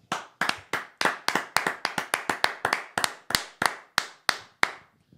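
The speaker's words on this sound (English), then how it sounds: "Let's have a nice round of applause for our producer Owen Buckley." A small audience at a music show claps for producer Owen Buckley: about twenty sharp, separate hand claps in a loose, quick rhythm that thin out and stop near the end.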